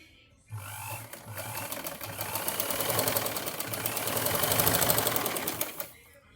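A sewing machine stitches slanted tucks into a blouse, its motor running in a steady rapid whir throughout, with short low bursts at the start and a few faint voices underneath.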